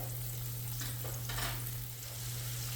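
Pork chops fry in a hot pan for smothered pork chops in onion gravy, giving a steady, loud, close sizzle with bursts of crackling spatter throughout.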